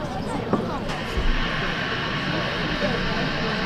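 Falcon 9 rocket engines igniting on the pad at Kennedy Space Center before liftoff, a steady broad roar heard from a distance that holds evenly throughout with a few faint thumps early on.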